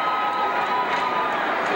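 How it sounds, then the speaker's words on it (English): Crowd noise at a high school ice hockey state championship in Gutterson Fieldhouse at the University of Vermont, a steady, dense murmur of thousands of spectators filling the arena, with no single voice standing out. "Good crowd on hand here at Gutterson."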